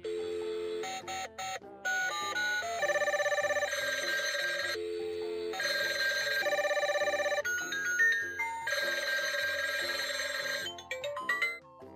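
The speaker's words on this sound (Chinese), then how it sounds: "电话铃声，" A Peppa Pig toy telephone rings with bright electronic bell tones, repeated bursts of ringing broken by short melodic chimes and button beeps, close and clear with no speech.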